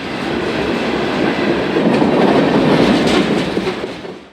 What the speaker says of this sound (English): The train is Eola Yard-based transfer job RCHI 457, who today has been tasked with a run to the BRC at Clearing.